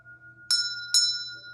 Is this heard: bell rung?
yes